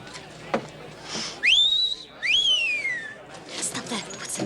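A person gives a two-note wolf whistle, each note sliding sharply up and then gliding down, clear and close against a quiet background.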